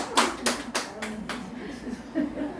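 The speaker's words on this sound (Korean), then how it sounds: "박수 한번 부탁드립니다." A church congregation claps together during a sermon, a series of about five strong, evenly spaced bursts of applause fading into scattered claps and light murmuring.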